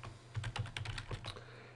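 Quick, close keystrokes on a computer keyboard in a brief run as an apt-get update command is typed into a Debian Linux system.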